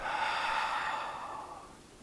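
A slow, soft exhalation during a tai chi qigong breathing exercise as the hands float down, a close breathy rush that fades gradually over about two seconds, heard alone.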